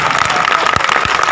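Loud, dense applause from a seated meeting audience fills the whole short stretch, a continuous wash of many hands clapping close by.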